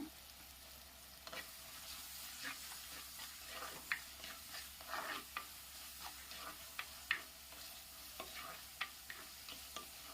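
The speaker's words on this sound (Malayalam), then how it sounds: "ഇനി നമുക്കൊന്ന് വഴറ്റി കൊടുക്കാം" Ash gourd curry with curry leaves and salt sautéing in a pan, a soft continuous sizzle broken by frequent light clicks and scrapes of a spoon stirring, quiet and close.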